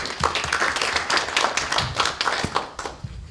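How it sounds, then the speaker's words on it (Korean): Audience applause at a Korean junior-college policy forum panel, a dense spread of many hands clapping at moderate level, steady for a few seconds with some louder nearby claps. "박수로 한번 맞이해 주시면 고맙겠습니다."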